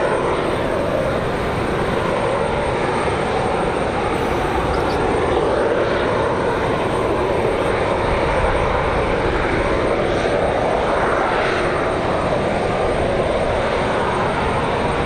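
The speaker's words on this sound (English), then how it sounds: "737-900. Arriving in 3 minutes" A Boeing 737-900 from Newark arrives at Raleigh-Durham on a windy day, its jet engines a loud, sustained roar that swells and eases across the pass, with a few faint whines rising over the steady drone.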